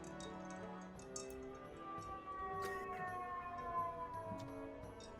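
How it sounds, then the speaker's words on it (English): A siren passes in the far background, its faint wailing tone rising and falling beneath light ticks and clicks in a quiet room. "There's a siren that goes by in the background."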